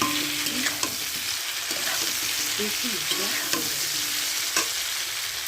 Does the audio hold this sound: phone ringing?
no